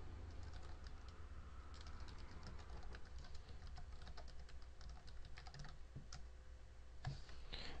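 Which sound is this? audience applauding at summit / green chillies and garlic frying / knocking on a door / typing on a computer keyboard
typing on a computer keyboard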